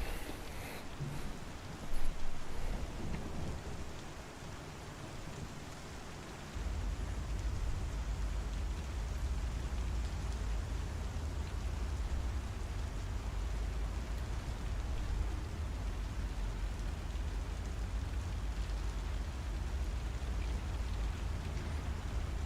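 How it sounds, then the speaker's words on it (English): Steady in-game rain in Star Citizen, a dense continuous hiss of rainfall that thickens after the first few seconds into a heavier, fuller downpour with a low rumble, with no talk over it. "Interesting, I have rain audio."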